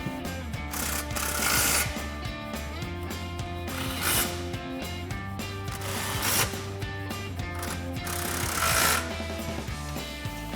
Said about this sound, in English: we're gonna grab our impact, extension, and 13mm swivel socket and tighten all of those down